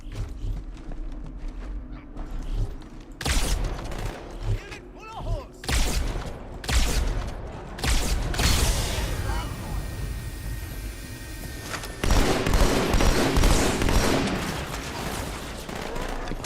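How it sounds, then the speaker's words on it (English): Dense bursts of gunfire in the video game Halo 2, loud volleys and rapid strings of shots following one another, with players talking over the action. "Shoot it! Just waste all of these shots before we swap."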